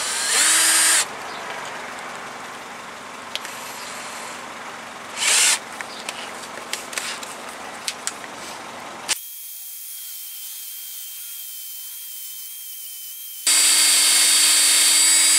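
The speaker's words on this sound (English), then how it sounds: "I'm taking a drill" Short bursts of a whirring power drill, loud and close, separated by quiet stretches with small clicks and handling sounds, during front brake work on a 2007 Nissan Altima.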